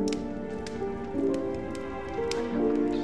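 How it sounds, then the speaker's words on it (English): Heavy rain patters steadily on a surface with scattered louder drips and taps, under a soft melodic tonal background, with no voices. "Will Father Christmas be able to get in such heavy rain?"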